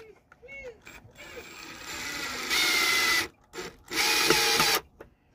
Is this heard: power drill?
yes